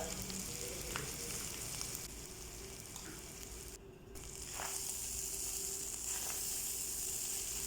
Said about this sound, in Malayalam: ഇനി നമ്മൾ വാർത്ത് വെച്ച ചോറ് ഇതിലേക്ക് ഇടുക